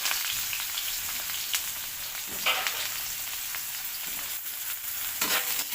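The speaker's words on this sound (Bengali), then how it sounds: "তেল গরম হয়ে গেছে, এবারে আমি বেগুনটা দিয়ে দেব।" Eggplant slices fry in hot oil in a kadai, a dense continuous crackling sizzle heard up close, with occasional clinks of stirring.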